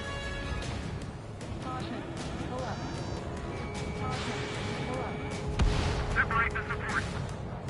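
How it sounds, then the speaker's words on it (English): Anti-air fire in Ace Combat 7 crackles and thumps in dense, continuous bursts beneath jet engine roar and radio chatter, swelling with heavier booms toward the end. "exposed to anti-air fire"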